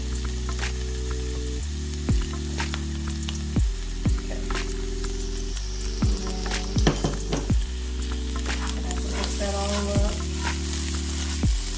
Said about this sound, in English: It's already sizzling